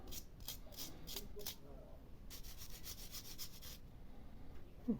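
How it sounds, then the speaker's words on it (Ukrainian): Contact of an electric kettle being sanded in a circular motion during a repair, giving a run of short, dry rubbing strokes up close, followed by a longer steady scrubbing burst, then a small click. "Трішки зачищайте по кругу для того, щоб максимально серединка контактувала."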